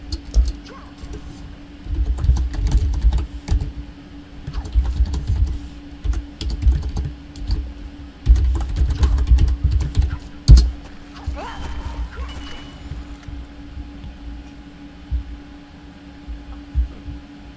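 Rapid typing on a computer keyboard, dense clattering keystrokes in bursts with short pauses, close and fairly loud over a steady low hum.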